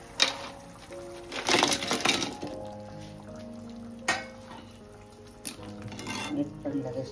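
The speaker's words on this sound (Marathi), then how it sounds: "आता आपण सर्व चिंबोरी ॲड करू." Crabs tipped into a pan of boiling gravy for a freshwater crab curry; a few sharp clattering thuds and splashes come in bursts against a bubbling background, fairly close and loud.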